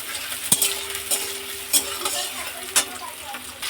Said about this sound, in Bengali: এবার মাংসটা একটুখানি ভাজা করে নেবো